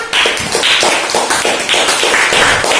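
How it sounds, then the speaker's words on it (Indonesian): Children clap their hands together in a primary school maths class, a loud, close burst of rhythmic, fairly synchronized claps in an indoor classroom, with no talking over it. "Kita tepuk tangan untuk teman-teman."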